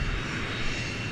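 A medevac aircraft at Vancouver Airport gives a brief, steady engine roar, a continuous dense drone from a moderate distance with no voices.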